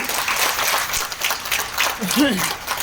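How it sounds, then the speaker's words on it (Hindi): Indoor applause from a small audience, a loose patter of clapping mixed with overlapping voices. "समीम सर के लिए जोरदार तालियां"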